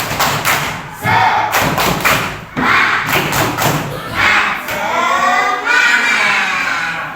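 Classroom group doing a rhythmic 'tepuk semangat' spirit clap, loud patterned bursts of claps and thumps repeating in quick sets, mixed with children's voices calling along throughout.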